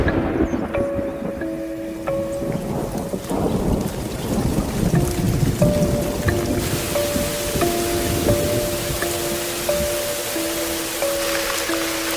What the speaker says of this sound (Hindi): मूसलाधार बारिश ने सब कुछ भिगो दिया।